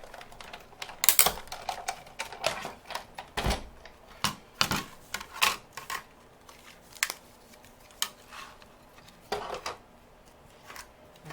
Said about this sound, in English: You want to put the blade side down, top standard cutting pad, and then run it through.